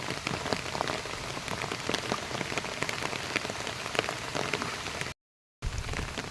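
Heavy rain falls on a flooded road in Bangladesh, a loud, constant patter and hiss with no voices, broken only by a short moment of silence near the end.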